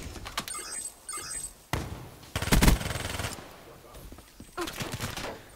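Rapid bursts of automatic fire from a quick-firing gun in Black Ops 3 multiplayer, several short loud volleys separated by pauses, with someone talking between them.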